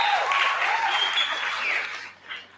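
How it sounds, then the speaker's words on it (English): An afternoon audience claps for a performer at a live civic gathering, a loud burst of applause with whoops and cheering voices that fades off near the end. "Can we have another round of applause for the one and only Sanipe?"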